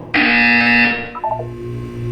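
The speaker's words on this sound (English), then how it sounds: "When you hear the buzzer, look down at the floor." A single loud electronic buzzer in Portal 2 blares for about a second, then cuts off into a faint electronic tone.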